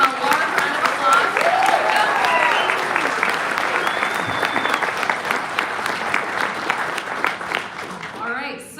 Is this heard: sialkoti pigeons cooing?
no